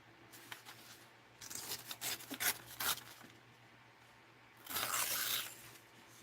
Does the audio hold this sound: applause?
no